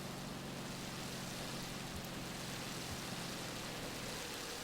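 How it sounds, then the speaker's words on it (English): Continuous soft hiss of rainfall in the video game Motor Town, even and unbroken, fairly quiet with a faint low hum underneath and no voices. "Okay, bit of raining."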